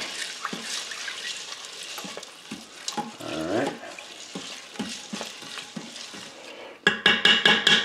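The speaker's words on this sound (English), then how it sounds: "Stir that around." Stirring black beans and chicken stock in an Instant Pot with soft scraping and liquid sloshing, followed near the end by a burst of rapid, rhythmic clicks.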